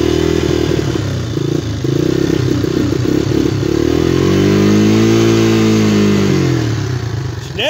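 A Honda Big Red engine runs roughly and loudly up close, its uneven chugging rising and falling in pitch as it surges, with no talking.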